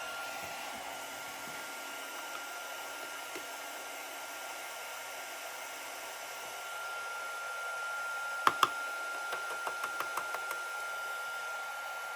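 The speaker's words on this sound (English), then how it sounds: "Get my embossing gun going." An embossing heat gun melting embossing powder gives a steady airy blowing hiss, constant and close, with a few faint sharp clicks and taps near the end.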